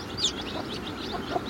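Desi country hens kept together clucking and chirping in short, faint bursts over steady background noise during a brief moment.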